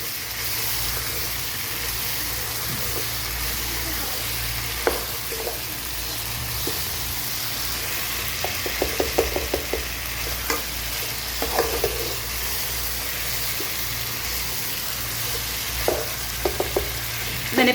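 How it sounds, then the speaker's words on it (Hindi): Cauliflower and potato fry with spices in a pan, a steady close sizzle running throughout with scattered clinks and scrapes of a stirring spoon, no voices. "इसी तरह मसाले के साथ हम इसकी भुनाई करते रहेंगे 3 से 4 मिनट।"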